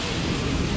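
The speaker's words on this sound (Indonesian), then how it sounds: "Di sini kita meneduh karena kondisi sekarang lagi hujan." Steady rain falls outside an Indomaret convenience store where people shelter from the downpour, a continuous, fairly loud wash of broadband patter with no voices.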